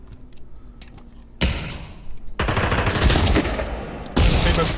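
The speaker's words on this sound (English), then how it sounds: "You see a mixed fight, 1 M4, 1 AK and some deagles." Mixed gunfire in a VR multiplayer shooter: an M4, an AK and Deagle pistols trade fire in close, loud rapid bursts and single cracks that overlap, following a quieter stretch of faint clicks and movement.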